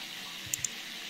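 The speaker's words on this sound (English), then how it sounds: "Sounds like a shower echoing from the bathroom walls." A shower running in a video game bathroom, a steady hiss of water echoing off the walls with two small splashy blips in the middle.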